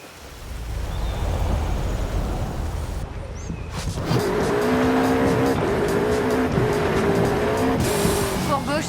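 VW Beetle rally car in Forza Horizon 5 driving a rally course, a rough rumble that swells into a loud, buzzing engine drone with tire noise and skidding, and speech now and then over it.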